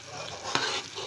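Ambadi bhaji, a leafy vegetable dish, bubbles and sizzles in a pan over a full flame, a soft steady hiss with one sharp tap of a utensil midway, close and wordless.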